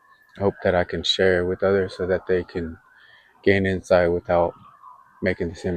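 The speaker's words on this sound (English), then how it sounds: "this is real because you can hear some sirens in the background." Someone speaks in the foreground while a faint siren wails steadily in the distance beneath his voice.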